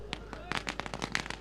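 Firecrackers burst at the opening ceremony of a village cricket tournament, a rapid string of sharp, loud cracks and pops fired in quick irregular succession, close by and dominating the scene.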